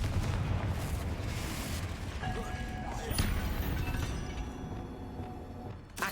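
A Confringo spell explosion in the Hogwarts Legacy video game: a heavy, rumbling blast with a low booming tail that fades slowly, while a person talks over it.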